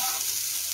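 Close, loud sizzle and crackle of prawns frying in a pan as they are turned and stirred, a dense steady hiss with no talking.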